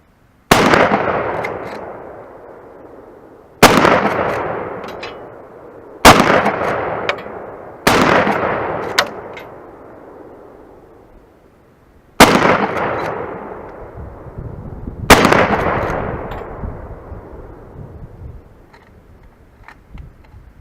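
Six loud, close shots from a Winchester 94 30-30 lever-action rifle firing 150-grain rounds at a 30-yard target, each sharp crack ringing out and decaying, spaced unevenly with pauses between.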